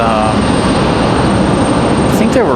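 Heavy, continuous jet roar from an airliner on the Salt Lake City flight at Raleigh-Durham airport, with a faint whining tone and a brief rising sweep near the end.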